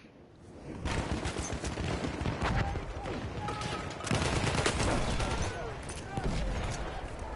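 A Battlefield 1 Conquest match on PS4 Pro with a grenade blast amid dense, continuous rifle and machine-gun fire. Loud, layered shots crackle throughout, with faint voices underneath.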